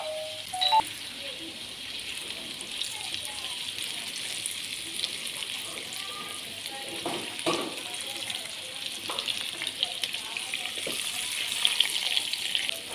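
Instant noodle omelet frying in a pan, giving a steady soft sizzle that holds at an even level throughout, with a few faint clicks and light scraping sounds now and then.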